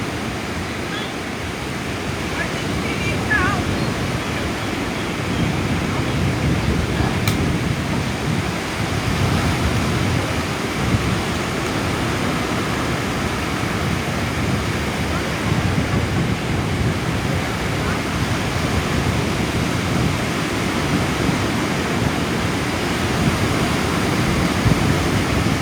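Ocean waves breaking on a beach in the Seychelles, a steady broadband wash of surf with wind buffeting the microphone, continuous and fairly loud, with faint voices at times.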